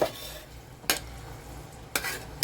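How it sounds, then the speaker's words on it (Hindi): Ginger garlic paste going into mutton frying in a pot, a low steady sizzle broken by a few sharp scrapes and stirs of a spoon against metal, close by with no voices. "अब हम डाल देंगे इसमें 2 बड़े चम्मच अदरक लहसुन का पेस्ट"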